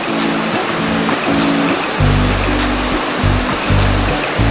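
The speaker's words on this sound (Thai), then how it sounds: "น้ำจะไหลมาเต็มสายเลย" Loud, constant rush of the Tat Ton waterfall and its stream during the rainy season, a dense white-noise roar filling the whole clip, with no voices.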